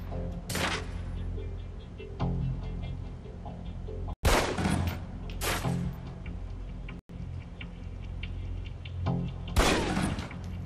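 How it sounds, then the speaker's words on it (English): Pistol shots ring out on a target range in Alpha Protocol on Xbox 360, a handful of loud, spaced cracks with short echoing tails over a low background hum. "Equip the pistol, then aim down range and take some shots at the target."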